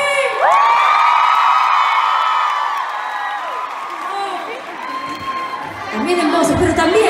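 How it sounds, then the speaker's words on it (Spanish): A crowd at a live pop concert in Tel Aviv cheers and whoops loudly, with sustained shouting and some clapping, while a voice and music carry on over the noise. "Pido un fuerte aplauso para Steffi."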